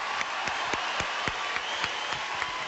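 Audience applause at a peace-themed music concert, a full continuous clapping texture with a few louder, regularly spaced claps standing out on top, sustained evenly throughout.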